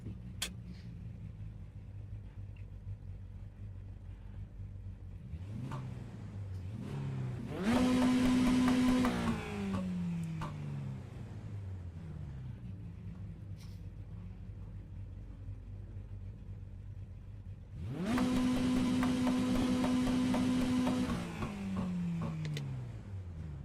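A car engine in a racing sim game drones steadily, then revs up loudly twice with rising and falling pitch before settling back to a lower hum.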